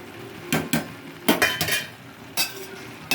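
Spoon scraping and clinking against a pot while coconut milk pulao with cashews is stirred, several short irregular scrapes and knocks, close and moderately loud over a quiet background.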